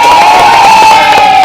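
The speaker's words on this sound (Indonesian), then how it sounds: "Nah, kita tepuk tangan buat kelompok 2." Children in a classroom coding lesson cheer and shout together for group 2, a loud, steady crowd of young voices over a continuous tone, with clapping blended in throughout.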